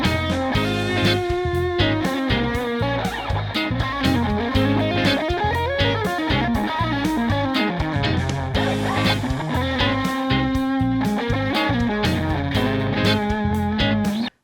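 An electric guitar runs a major pentatonic line from the fourth degree of the key, a steady, dense stream of bright, slightly distorted notes over about fourteen seconds with no talking.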